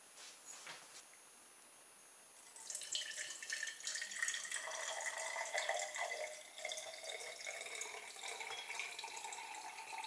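Liquid, a cheap supermarket cola, pours out of a container into a sink, a quiet splashing and trickling stream that begins after a few seconds of faint dripping and carries on steadily, without any talking.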